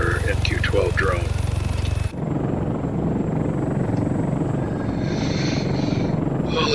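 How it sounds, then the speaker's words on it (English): MQ-12 drone flying in the video game Arma 3: a steady, loud rotor-engine drone that fills the whole clip, with birdsong briefly audible at the start before the engine noise dominates. "And there's our MQ-12 drone."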